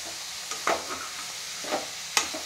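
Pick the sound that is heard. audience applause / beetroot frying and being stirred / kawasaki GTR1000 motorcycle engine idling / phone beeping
beetroot frying and being stirred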